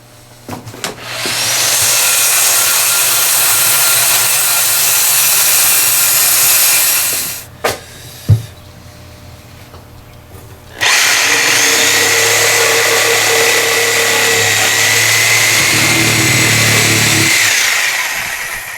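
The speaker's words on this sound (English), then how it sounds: "Let's hit it with the circular saw first." A circular saw bites into an old wooden barn beam in two long, loud, close-up cuts, with a brief lull in between holding a few knocks and clicks.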